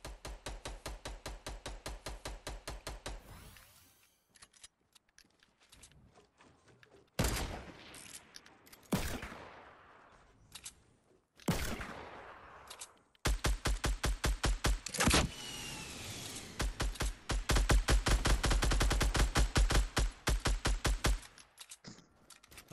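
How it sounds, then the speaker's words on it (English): Gunfire in the video game Fortnite as a player shoots at a tree: rapid, evenly spaced bursts of sharp shots in several volleys, with gaps of quieter game noise and single louder cracks between them. "I'm gonna shoot a tree."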